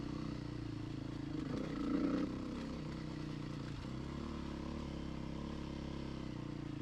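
A Beta RR 430 enduro motorcycle is ridden off-road, its engine giving a steady mid-distance drone with a brief swell in revs partway through, alone without talk.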